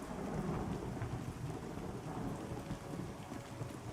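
Rain falls steadily with low rolling thunder in the fantasy game Pantheon: Rise of the Fallen, a soft, even storm at fairly low volume with no talking.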